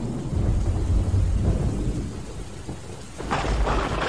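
Heavy rain pours steadily in misty forest under a large shady tree, with a deep rumble of thunder rolling through and a louder surge of rain near the end; no voices.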